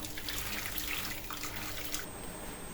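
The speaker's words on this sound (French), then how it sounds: "Voilà, j'ai rajouté de l'eau." Water streams steadily from a kitchen tap into a pot of carrots, onions and a chicken carcass, a continuous close rushing splash with no talk.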